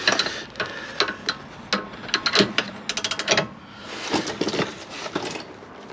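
A socket wrench ratchets on a tight, stuck bolt during a repair, giving bursts of rapid clicking pawl ticks separated by pauses, close and fairly loud, with no talking.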